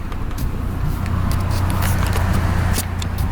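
A Toyota Tacoma pickup fitted with a pedal commander, accelerating in Sport Plus mode. A steady, loud, unbroken engine and road roar from inside the cab, low and dense throughout.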